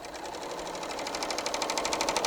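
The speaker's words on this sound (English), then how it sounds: "So now when I sew that same line of stitching, it's going to stitch it," A Bernina L890 sewing machine runs steadily while stitching a seam, its fast rhythmic needle chatter holding close and even throughout, growing slightly louder toward the end.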